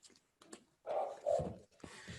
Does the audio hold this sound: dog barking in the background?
yes